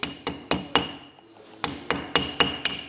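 A hammer taps a KDSS part on a Toyota Land Cruiser Prado 150 into place, striking sharp, ringing metallic blows in two quick bursts of four and six evenly spaced hits with a short pause between.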